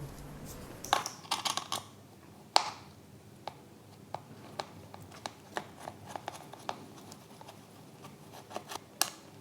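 Small 1.5mm hex screws being backed out of an RC car chassis, giving a series of light, sharp ticks and clicks scattered irregularly throughout, close and fairly faint, with no talking.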